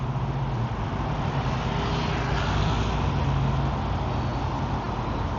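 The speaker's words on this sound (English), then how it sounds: "A lot of cars about to come by here." Cars passing on a noisy road, heard as a steady, broad traffic roar with a low rumble that swells slightly midway as a vehicle goes by fairly close; no voices.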